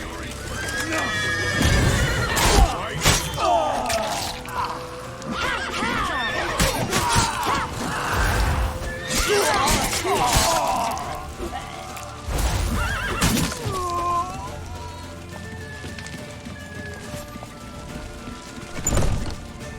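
Horses neigh and whinny repeatedly amid clattering hooves, crashes and shouting voices in The Witcher 3: Wild Hunt, loud and chaotic.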